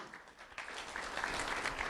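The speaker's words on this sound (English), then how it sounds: "Round of applause for Sincere Christmas," Audience applause at an elementary school award ceremony, a dense wash of clapping that swells louder partway through and holds steady to the end.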